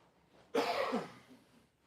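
A single short, sharp cough close to the microphone at a town council meeting, followed by quiet.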